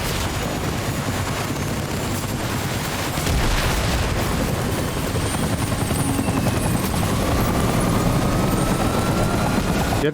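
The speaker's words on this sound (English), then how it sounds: "Get me in the chopper." A helicopter in the Death Stranding video game roars with a loud, steady rotor wash that fills the whole stretch, and a dull rumble of distant blasts runs beneath it.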